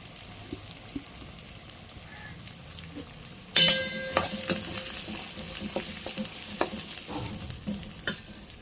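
Chopped shallots sizzle and crackle steadily in a hot pan over medium flame after a sudden burst, with occasional scraping stirs; no voices.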